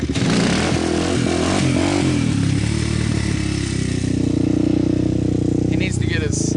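An ATV engine revs hard and steadily through a wheelie, loud and close throughout, with clattering mechanical noise and voices talking over it.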